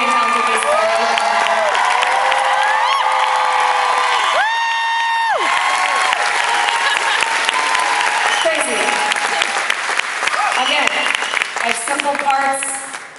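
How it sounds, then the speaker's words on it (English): At a show in Winnipeg's Centennial Concert Hall, the audience claps, cheers and whoops for the bass player, with loud, sustained applause and scattered shouts over held tones from the stage. "Would you please give a massive round of applause for our lovely and talented bass player?"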